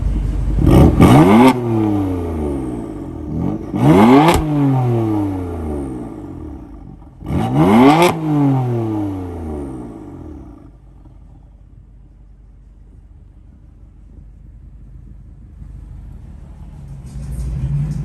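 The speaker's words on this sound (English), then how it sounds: "You want to get in there and rev it real quick?" A BMW M4 fitted with an aftermarket exhaust is revved three times in quick succession, each a loud deep roar rising in pitch then falling back, followed by a quiet idle rumble with a faint voice near the end.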